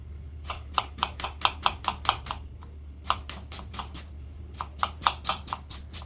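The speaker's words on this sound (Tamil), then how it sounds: "நல்லா ஃபைனாக சாப் பண்ணிக்கலாம்." A large onion being finely chopped with a knife on a board: quick runs of sharp, crisp taps in bursts separated by short pauses, close and clear over a faint low hum, without any speech.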